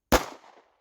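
A single sharp, loud 9mm gunshot from a Springfield Hellcat pistol fired close by outdoors, with a short fading echo and no talk.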